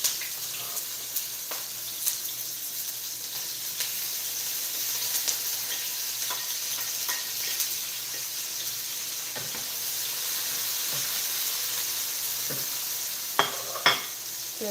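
Onions frying in a pan and pushed around with a wooden spoon, a soft continuous sizzle with scattered light scrapes and a couple of sharper knocks near the end, fairly quiet and without talk.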